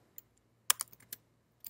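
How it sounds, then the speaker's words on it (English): Several quick clicks of typing on a computer keyboard, a short cluster of keystrokes in a quiet room with a faint low hum behind them. "Let's just start typing."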